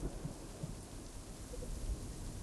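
Steady rain falls outdoors with a broad, constant hiss and occasional low rumbles, filling the whole short stretch with no voices.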